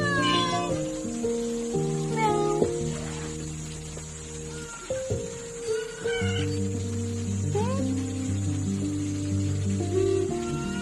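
Rescue cats in a home shelter for stray cats, several meowing and yowling in turn over continuous background music, with no clear talk.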